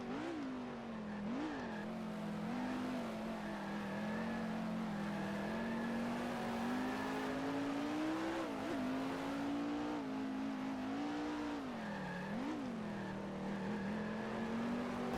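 Race car engine in the Grand Prix Legends racing game, a continuous loud droning engine note that rises and falls as the car accelerates, with quick dips and revs at gear changes through corners over the lap.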